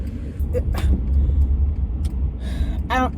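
Cars passing through a morning traffic light, a loud close low engine rumble with passing vehicle noise and a brief hiss like a brake, heard from inside a vehicle.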